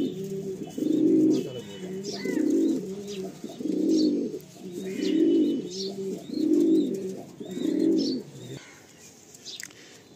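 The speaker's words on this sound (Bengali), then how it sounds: "এই পায়রা" Pigeons coo in a loft of pigeons kept for sale, six rhythmic rounds of deep, throaty cooing repeating close by, then fading off near the end with faint chirps above.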